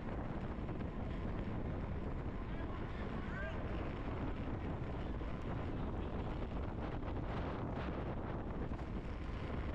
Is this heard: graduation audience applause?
no